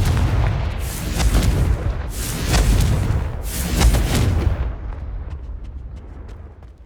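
Several loud, booming magical blasts from the Confringo spell in Hogwarts Legacy, three heavy explosive bursts about a second apart, each rumbling with deep low end before fading into quieter debris crackle.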